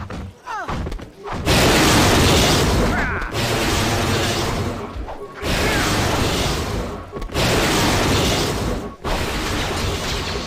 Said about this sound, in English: A lot of grenades.